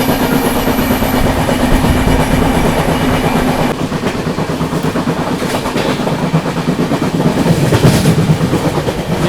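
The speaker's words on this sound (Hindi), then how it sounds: "बीच में ट्रेन आ गई यहाँ, हाई कैपेसिटी पार्सल वैन" A passing Indian passenger train with a high capacity parcel van rolls by on a Northeast India route, a loud, steady rumble with continuous wheel clatter that holds throughout and eases slightly midway.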